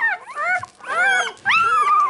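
A mother dog, just bathed, lets out three close, loud bursts of whining and whimpering with a slight growly edge, the yelps rising and falling in pitch.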